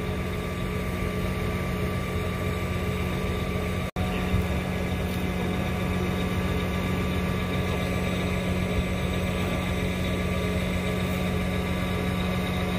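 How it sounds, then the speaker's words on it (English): A large John Deere tractor engine idles steadily with a deep, even rumble, nearby and continuous, with one brief dropout early on. "Big tractor up here too."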